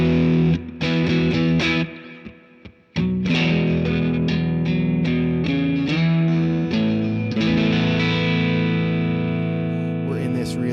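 Electric guitar played through a VOX AC10 amp with the bass and reverb turned down, sounding distorted and sustained: chords ring loudly with short gaps and picked attacks, then settle into held, slowly decaying notes.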